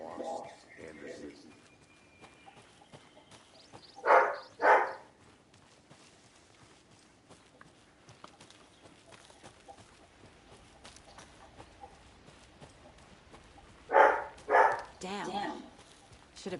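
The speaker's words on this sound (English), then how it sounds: "Sorry about my loud doggy." Two pairs of loud dog barks several seconds apart, sharp and close, over a quiet background with faint muffled talk, from the video game Alan Wake 2.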